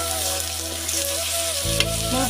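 Spices and food frying in a pan, a continuous close sizzle with stirring noises and a low hum, alone without any voices.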